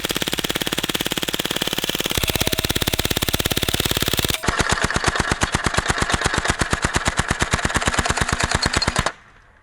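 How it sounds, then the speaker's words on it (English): Full-auto BB gun firing long rapid bursts, a dense, evenly spaced mechanical rattle of shots that pauses briefly midway, resumes at a sharper, louder rate, then cuts off abruptly. "more fun to shoot stuff"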